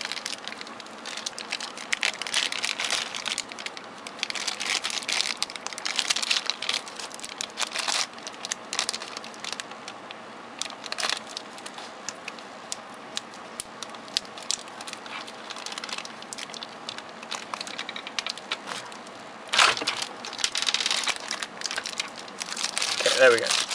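Tape is pulled off the cable packaging of a Razer BlackWidow Expert mechanical keyboard, giving close crinkling and tearing rustles in irregular bursts. There is no talking.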